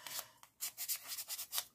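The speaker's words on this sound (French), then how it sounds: "passer au papier de verre" Sandpaper rubbing over a small kit part: quick, rhythmic back-and-forth rasping strokes, close and fairly quiet, with no talking.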